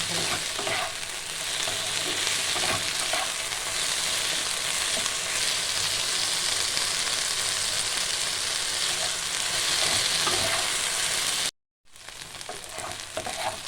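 Okra mixture for a Bengali bhindi chorchori frying and sizzling steadily in a pan, with stirring scrapes throughout, close and continuous, briefly cutting out near the end before resuming.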